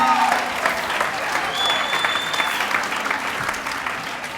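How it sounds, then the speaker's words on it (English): Sustained audience applause at a fitness transformation awards event, dense clapping from a crowd with a few whistles cutting through, steady throughout. "so give her a round of applause"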